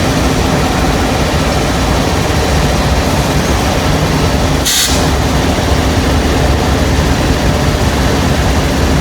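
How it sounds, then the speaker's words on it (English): A northbound unit grain train rolls past at close range, a loud, continuous low rumble of wheels and heavy rail cars with a steady hum and one brief sharp clank midway. "A northbound unit grain train,"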